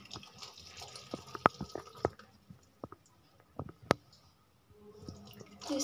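A cooked turmeric and dry ginger mixture is poured and scraped into wheat flour for barfi, giving faint, scattered wet squishes and small clicks with quiet gaps between them.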